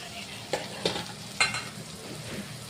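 Lentils and dill greens being stirred in a pan for a Gujarati suva bhaji dish, with a few soft scraping strokes over a faint, low sizzle nearby.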